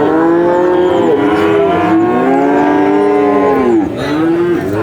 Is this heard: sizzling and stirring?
no